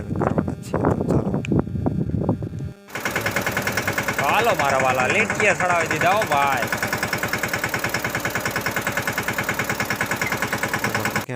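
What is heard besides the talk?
tractor engine running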